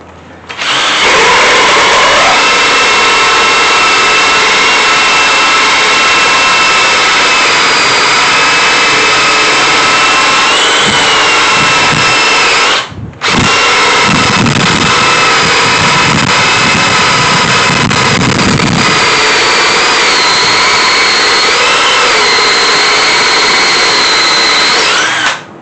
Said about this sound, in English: Now let's drill through all of these ones.